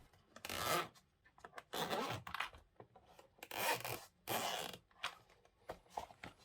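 A rugged controller carrying case is unzipped and opened nearby, giving several scratchy zipper pulls and rubbing sounds in separate bursts, quiet and with no talk.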